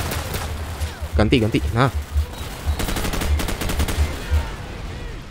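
Handgun gunfire in Call of Duty 4: Modern Warfare comes as a string of sharp, evenly spaced shots over a low game rumble, with someone talking briefly over it.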